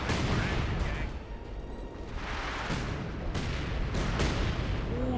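An artillery barrage in Company of Heroes 2 rumbles with dense, continuous booms and blasts that stay loud for the whole stretch, with a few brief sharper bursts standing out.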